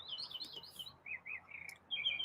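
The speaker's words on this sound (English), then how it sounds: "He's just a happy bird." A pet bird chirps in bright, high twittering bursts, a quick run of tweets followed by a few longer calls, close by in a quiet indoor room.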